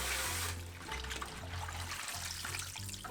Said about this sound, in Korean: 손질한 무청은 물에 한번 씻으세요